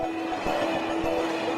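A train rolls over rail vibration sensors that measure each passing wheel, giving a steady loud rumble with a sustained tonal hum and faint rhythmic thumps of wheels crossing the track.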